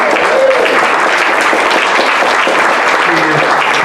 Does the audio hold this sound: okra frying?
no